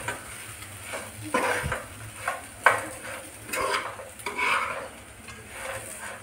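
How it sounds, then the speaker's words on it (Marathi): Raw banana vegetable being stirred in an oily pan, a Khandeshi-style curry, with scraping spoon strokes against the pan coming in several irregular bursts over a faint sizzle, close and moderately loud, no talking. "आता हे व्यवस्थित आपल्याला सगळं परत मिक्स करून घ्यायचं आहे"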